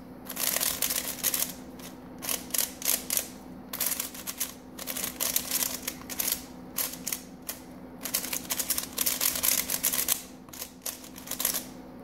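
A QiYi Thunderclap speed cube turned for its first time gives rapid bursts of plastic clicking and clacking, close and fairly loud, in uneven flurries across the whole stretch.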